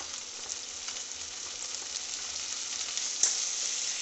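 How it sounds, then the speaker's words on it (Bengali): Ground spices with turmeric, chili and cumin fry in a pan with a steady, bright sizzle, close and fairly soft, with one sharper crackle near the end and no talking. "আর এখানে দেখো সব কিছু দিয়ে আমি কষাই নিচ্ছি"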